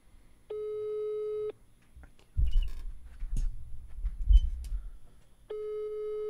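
A telephone line tone sounds during a call to a pizzeria, a steady one-second tone near the start and another near the end, with low background rustling and noise between them.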